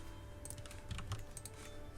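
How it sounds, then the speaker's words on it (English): Rapid clicking from a computer mouse or keyboard while playing Crusader Kings 3: a close, quiet cluster of sharp taps, irregular in rhythm, with no speech. "have to keep clicking this damn button"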